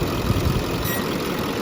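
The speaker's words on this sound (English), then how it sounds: "the LML is a quiet engine" A Chevrolet Duramax LML diesel engine idles steadily, a low, even rumble with a faint high whine from the turbo area, heard close up and without interruption.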